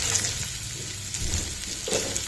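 Spices, and then garlic cloves, frying in hot oil for a chutney tempering, with a steady close sizzle and faint crackles that carry through the clip.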